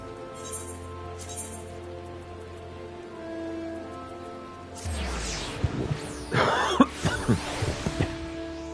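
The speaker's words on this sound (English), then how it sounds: "Nice cold rain reminds me of outside right now." Steady rain falls in the Final Fantasy XIV game world, a soft continuous hiss that thickens and brightens midway with scattered louder splashes and crackles toward the end.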